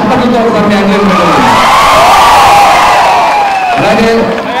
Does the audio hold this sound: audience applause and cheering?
yes